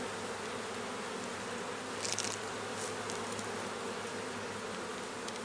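Honeybees buzz steadily around an open Langstroth hive, a continuous dense hum close by that stays even throughout, with no one speaking.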